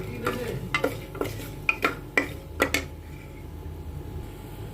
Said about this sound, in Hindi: इसमें मैं देखिए डाल रही हूँ 10 से 12 काली मिर्च के दाने, 3 लौंग, 2 हरी इलायची और 1 इंच दालचीनी का टुकड़ा तोड़ के इसको तड़कने देंगे।